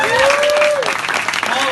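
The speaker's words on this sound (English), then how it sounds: "Give them another round of applause." Loud, sustained applause from a comedy club audience at a London roast battle, dense clapping filling the whole moment with a voice speaking over it.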